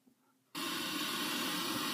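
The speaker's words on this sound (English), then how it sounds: "You can hear that there's a lot of hissing noise going on right now." After a quiet moment, a loud, steady broadband hiss switches on abruptly and holds: static from a car radio tuned to an empty FM frequency, 87.9.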